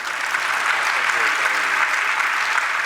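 Audience at a Jain monk's sermon breaks into sustained, dense applause, steady and loud from start to finish.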